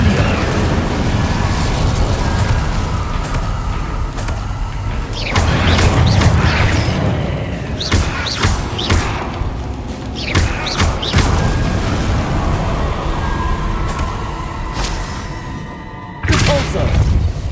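Fire and blasting spell effects in the Hogwarts Legacy video game, a run of booming bursts and crackling impacts against a busy combat backdrop, with shouted spell names heard between the blasts.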